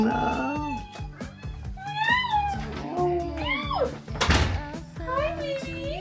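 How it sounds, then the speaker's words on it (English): Pet cats meow repeatedly in rising, drawn-out calls as their owners come home, close and clear, mixed with a door sliding and people greeting them in excited voices. "But we're excited to see our cats."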